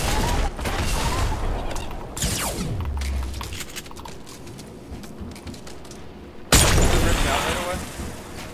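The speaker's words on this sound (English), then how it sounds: "I have my shotgun out!" Shotgun blasts in a first-person video game firefight, with a sharp boom near the start and a heavy burst later, amid dense gunfire and game effects.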